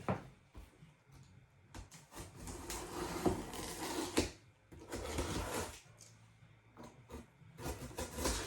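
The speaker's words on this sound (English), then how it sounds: "let's go ahead, cut this bad boy open, and see what we got" A shipping box from Big Bad Toy Store is cut and pulled open by hand: scraping, rubbing and tearing cardboard and tape in uneven bursts with short pauses, fairly close, with no talk.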